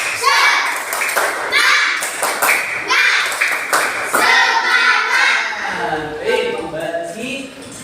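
A group of children claps a rhythmic spirit cheer in bursts, the claps mixed with a teacher's voice and chanting.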